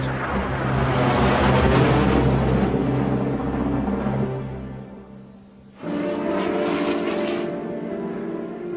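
An F-86 Sabre jet fighter gives a loud, sustained roar that fades over several seconds, cuts out briefly, then returns strongly for a second pass with no speech.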